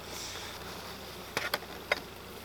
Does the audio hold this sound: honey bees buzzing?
yes